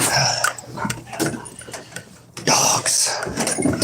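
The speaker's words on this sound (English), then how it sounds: "Dogs." Dogs bark in short, sharp, repeated bursts at close range, with a person talking over and between the barks.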